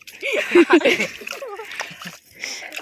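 Water splashes in a few sharp bursts as Babu is doused at a village stepwell, mixed with close, lively talking voices.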